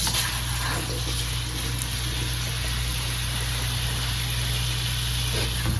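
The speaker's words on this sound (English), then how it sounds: "And I'll turn the cold water on." Cold tap water runs in a steady, hissing stream onto freshly blanched garden beets in a kitchen sink, continuous and close with no breaks.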